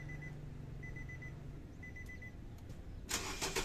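A Nissan Grand Livina automatic starts up with a brief burst of cranking and engine catch near the end, following a few seconds of quiet cabin tones with repeated beeping chimes.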